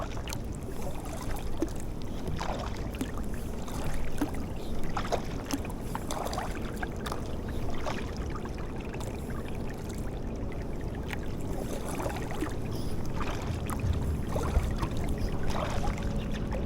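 A boat is paddled across open water, with steady splashing and sloshing strokes and a faint wash of wind running continuously at close range, without any talking.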